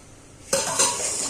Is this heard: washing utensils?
yes